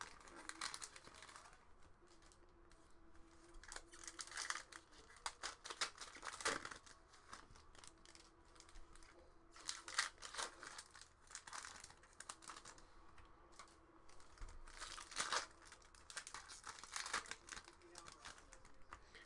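Upper Deck Goodwin Champions trading card pack wrappers being torn open by hand, a close, soft series of crinkling rips and rustles, repeated in bursts under a quiet room with faint talk.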